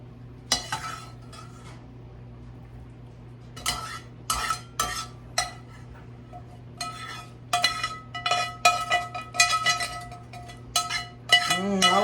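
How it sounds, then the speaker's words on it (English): Boudin, chopped peppers and onions are stirred into cornbread batter, with repeated scraping and clinking of a utensil against a metal pan over a low hum, and a few sharp metallic taps near the end. "boudin and my peppers and onions. Get them over here in my batter."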